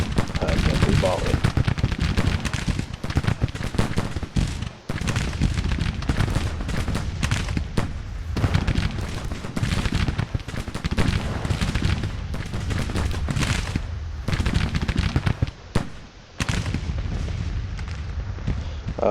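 Volleys of musket fire crackle and boom in dense, overlapping bursts on a Civil War battlefield in Grand Tactician: The Civil War at the Battle of Pea Ridge, loud and continuous with brief lulls, someone talking over the gunfire.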